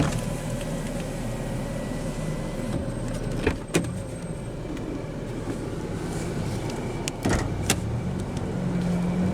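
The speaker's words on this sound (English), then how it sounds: "now we'll go ahead and roll down the driver's window" Driver's power window of a 2014 Jeep Grand Cherokee Overland 3.6L 4x4 rolling down, a steady motor whir under a low idling hum, with two sharp clicks or thumps partway through; no talk.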